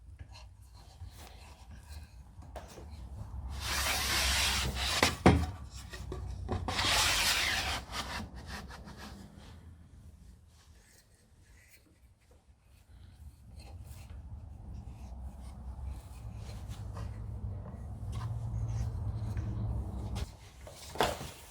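Hand saw cutting dovetails in a wooden board for a large jewelry box, heard as bursts of rasping strokes with a quieter stretch mid-way before steady sawing resumes, close and alone.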